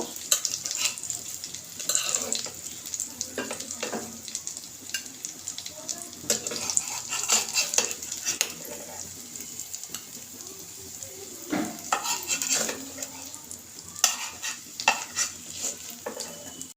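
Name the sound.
shidol shutki bora frying, lifted from the pan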